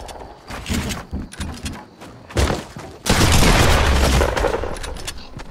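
Gunfire in the video game Fortnite, with scattered shots and booms early on, then a loud, dense sustained burst of rapid fire over the second half.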